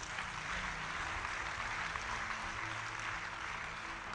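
A church congregation applauds in praise of the Lord, a dense, steady wash of clapping that holds at an even level throughout, with no voices rising above it.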